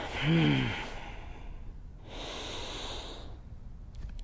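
A yoga class exhale: a soft, airy breath out under light room tone, following a brief low vocal sigh at the start, then a second steady breathy stretch later, close and moderately quiet.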